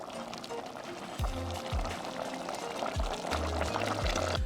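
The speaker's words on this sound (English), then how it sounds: "pour the soup mixture into the mixer" Cream of onion soup mixture made with vermouth, bay leaf and chicken stock pours steadily into a blender jar, a continuous liquid splash with soft gurgling pulses, close and fairly loud.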